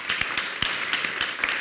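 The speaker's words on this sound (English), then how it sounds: "Let's have a round of applause for Hernan." Audience applause at a community forum, sparse individual claps in an uneven rhythm, fairly close and clear, with no voices over them.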